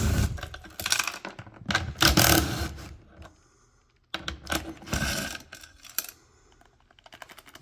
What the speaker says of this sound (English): First thing we do is take out the seat